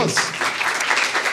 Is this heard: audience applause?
yes